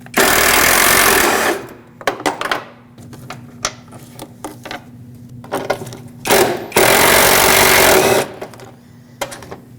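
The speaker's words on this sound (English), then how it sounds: "Remove both of these using a 10mm socket." A ratchet with a 10mm socket and long extension turns out the airbox mounting bolts on a 2006-2015 Lexus IS250, two loud, close, sustained whirring bursts with lighter clicking and rattling between them.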